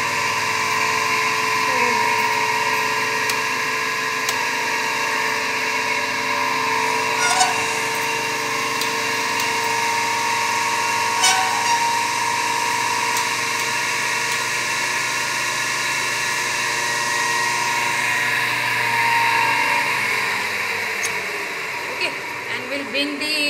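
A three-phase induction motor running under load on a test bench, producing a steady loud hum with a high whine that holds constant and shifts slightly near the end.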